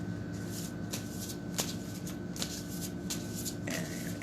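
Oracle cards being shuffled by hand in a quick, steady run of papery riffles and soft slaps, close and clear with no voices.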